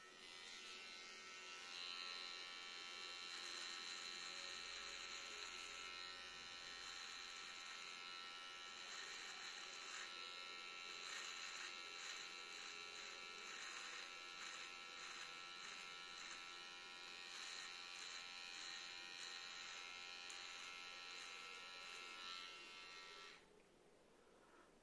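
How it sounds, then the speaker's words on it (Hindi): Ustraa chrome electric beard trimmer running on its own, a steady close, loud motor buzz held for about twenty-two seconds before it drops off at the end. "मैं इसको स्टार्ट करता हूं और फिर आपको दिखाता हूं कि कितना क्लोज ये ट्रिमर या कितनी बढ़िया ट्रिमिंग ये करता है"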